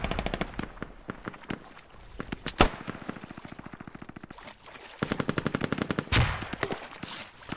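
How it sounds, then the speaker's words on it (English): Grenade blast in the military shooter Squad, a sharp booming burst amid rapid bursts of close automatic gunfire and scattered single shots. "that grenade went right over me"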